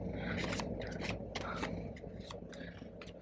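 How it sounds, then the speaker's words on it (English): A deck of Pokemon trading cards is shuffled by hand in a quiet room, giving a run of short papery riffles and rustles, fairly close and soft, tapering off toward the end. "I think I'll shuffle these just a little bit more"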